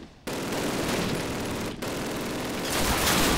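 Gunfire in the Call of Duty video game: a loud, sustained burst of automatic rifle fire that starts abruptly, cuts out briefly, then resumes and swells toward the end, with no talking over it.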